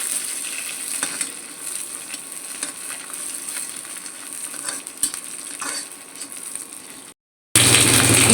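Garlic, chillies, dried chillies and chopped onion frying in oil, a steady sizzle with occasional metallic scrapes of a stirring spoon, close and fairly loud, ending in a brief silence and then a louder burst.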